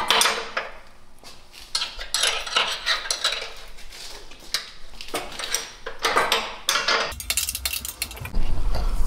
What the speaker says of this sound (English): You're going to need to use a wrench because the socket can't quite get in there.